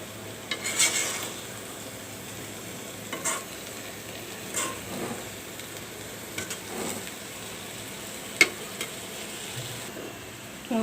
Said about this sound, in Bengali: এখন মাছ ভাজিটা আস্তে আস্তে করে একটু নাড়া দিতে হবে।